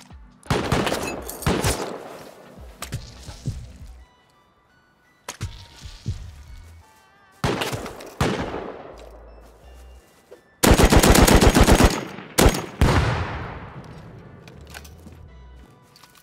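Gunfire in a game set around an oil rig: loud automatic bursts and single shots come in separate clusters with echoing tails, split by short pauses, including one long, sustained full-auto stream.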